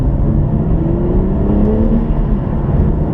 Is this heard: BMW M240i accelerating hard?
yes